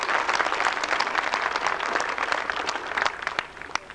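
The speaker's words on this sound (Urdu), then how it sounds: "سب سے کم تالیاں بھی مجھے ملتی ہیں کیونکہ سب تھک چکے ہوتے ہیں" An audience at a convention applauds, a dense crackle of many hands clapping continuously for the whole stretch, fairly loud and close, with a few sharper individual claps standing out toward the end.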